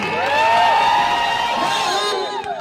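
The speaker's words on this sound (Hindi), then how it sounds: "आप इनके लिए एक बार जोरदार तालियां बजाइए।" Crowd at an Adivasi mahapanchayat rally in Khivni, Khategaon, Dewas, roaring with loud cheers and whoops, many voices blending into a sustained near wall of excited shouting throughout.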